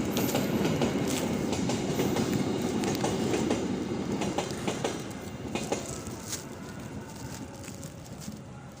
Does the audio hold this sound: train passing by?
yes